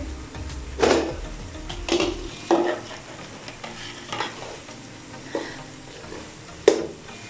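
Half a kilo of minced meat stirred and fried in cooked masala, a soft continuous sizzle punctuated by repeated scraping strokes of a spoon against the pot, close by with no talking.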